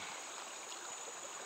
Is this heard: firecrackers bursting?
no